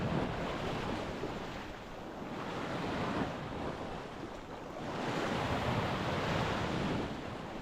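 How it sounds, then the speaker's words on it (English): Ocean waves surging onto a beach in Ayia Napa, a broad continuous roar that swells and recedes in two slow rolls, mixed with gusty wind buffeting the microphone, no voices. "I'm just waiting for the waves to be a little bit calmer"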